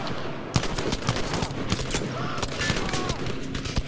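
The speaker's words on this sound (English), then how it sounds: "Oh, we're getting shot." Dense, continuous gunfire in the Battlefield V video game: rapid automatic bursts and overlapping shots crackling without pause amid battle noise.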